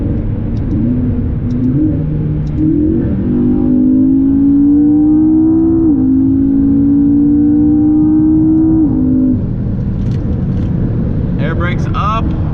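A supercar with an aftermarket exhaust accelerates from inside the cabin, its engine note climbing steadily through gear changes as a loud, sustained drone, with someone talking over it.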